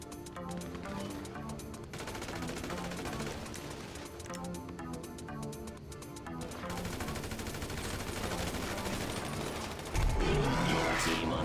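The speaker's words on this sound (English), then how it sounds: "I actually never knew the shotgun was this good in here" Shotgun blasts and rapid gunfire in a GTA Online match, dense repeated shots layered with game mechanisms and background music-like tones, ending in a louder burst.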